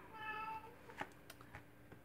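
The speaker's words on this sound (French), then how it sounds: "Et oui, mon chat qui miaule." A house cat gives a short, faint meow at the start, followed by soft scattered clicks and rustling indoors.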